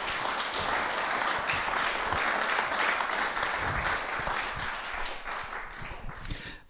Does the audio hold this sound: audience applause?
yes